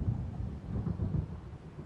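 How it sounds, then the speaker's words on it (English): Low, rolling thunder from an approaching storm in Alan Wake, a continuous deep rumble with soft swells, moderately loud and steady with no voices. "It seems there's a storm coming."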